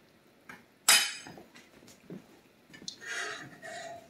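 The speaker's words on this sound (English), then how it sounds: "I'm taking this spoon out and I'm putting it in the sink" A metal spoon sticky with caramel icing is dropped into a kitchen sink, giving one loud, bright clatter near the start. A few softer knocks and clinks follow, and a short hissing sound of running water or a pan comes near the end.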